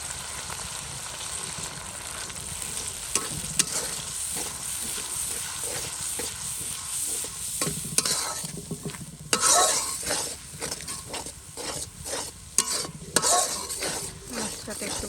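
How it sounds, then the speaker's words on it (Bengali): Turmeric, chili and spices frying in a pan for a beef dish on a gas stove, with continuous sizzling and repeated scraping stirs throughout, close and fairly loud. "ভাজা ভাজা করে নেব"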